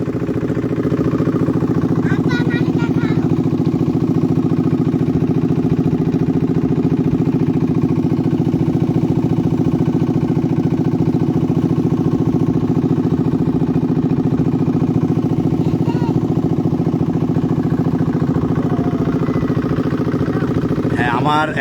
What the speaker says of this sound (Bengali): চারিদিকে শুধু পানি আর পানি, তার মাঝে আমাদের এই ট্রলার এগিয়ে চলছে।